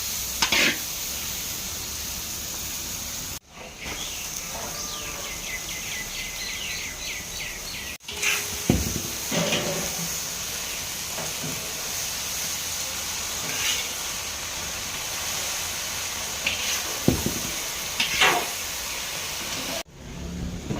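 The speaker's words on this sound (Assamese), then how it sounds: "ইতিমধ্যে ঢেকীয়া আৰু আলু ভাজি হৈ গ'ল" Fiddlehead fern and potatoes frying in a wok, a steady close sizzle and hiss running throughout, broken by scraping stirs and a few sharp utensil clanks.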